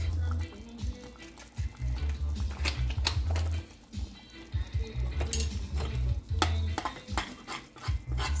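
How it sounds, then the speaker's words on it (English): Curry shrimp pasta sauce simmering on medium heat in a pot, heard as continuous soft bubbling and sizzling under repeated clinks and scrapes of a spoon stirring against the pan. "So after you add your pepper, you'll allow it to simmer on medium heat."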